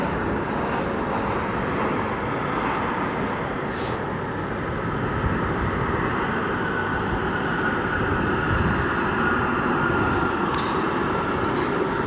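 A heavy jet airliner rumbling at O'Hare International Airport in Chicago on a snowy, sunny day, a broad continuous engine roar holding steady throughout with a faint high whine above it.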